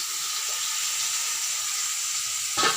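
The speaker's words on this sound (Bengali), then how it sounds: "এবার এর মধ্যে দিয়ে দেবো ভেজে রাখা পটলগুলো" Fried pointed gourds drop into spice masala in hot oil, setting off a loud, steady hissing sizzle that ends with a soft clunk.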